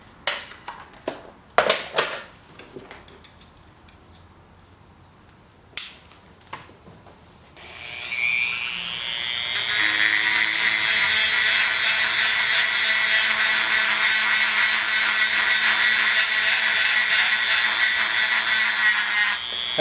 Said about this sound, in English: I'm going to use this cylinder burr here.